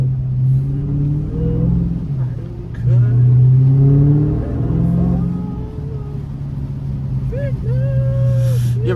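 A Dodge Hellcat engine rumbles steadily at close range on a rainy day, its pitch rising and falling as it revs. Voices talk over the drone.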